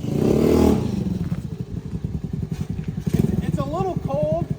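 A Honda Navi motorcycle fitted with an upgraded exhaust idles close by, its engine putting out a loud, throbbing, uneven chug with a few revs, while people talk over it.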